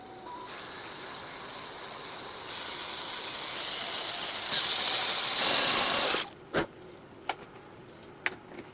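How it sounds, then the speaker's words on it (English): Power drill boring holes in wood to mount a caster, a steady whirring that builds in intensity over several seconds, then stops, followed by a few sharp clicks and knocks. "Then I'm going to drill the other 3 holes."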